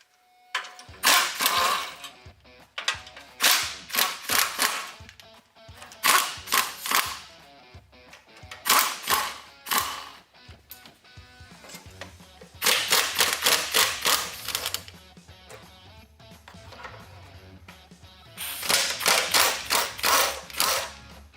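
Ratchet undoing bolts on the KDSS line covers of a Lexus GX460, rapid clicking bursts repeated several times with short pauses between, close and fairly loud, no speech.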